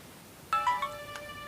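A mobile phone ringtone sounds in a scene from the Malayalam film Godha: a short, bright melodic electronic chime that starts abruptly and rings clearly, alone without voices.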